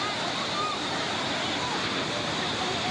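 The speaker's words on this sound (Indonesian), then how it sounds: "Derasnya air sungai meluap hingga ke permukaan jalan dan permukiman warga." Floodwater from two overflowing rivers in East Flores rushes in a loud, continuous broadband roar, steady and unbroken, while a voice speaks over it.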